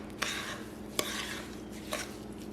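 Cake batter stirred by hand in a bowl for a jelly cake, a steady soft scraping swish with a few sharp clinks of the spoon against the bowl, close and alone.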